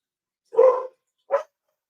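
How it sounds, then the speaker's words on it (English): A dog barks twice nearby, one longer bark followed by a short sharp one after a pause, with no talking over it. "I just can't think with that daggone dog going here"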